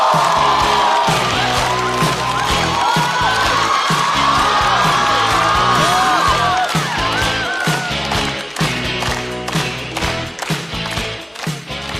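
Studio audience at a stand-up comedy show breaks into loud, sustained applause and cheering with whoops, the clapping steady and dense throughout before thinning slightly near the end.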